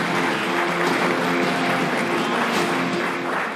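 A studio audience at a televised sports talk show gives steady, dense applause, a continuous wash of clapping held at even strength for a few seconds with no voices over it.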